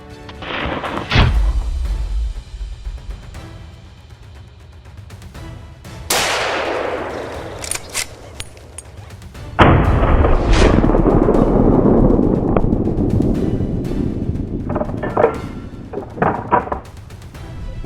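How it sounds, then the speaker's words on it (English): Gunfire rings out during a wild boar hunt in a forest: several heavy, booming shots spaced seconds apart, each with a long rumbling echo, loud and close. "He unleashed a burst of shots,"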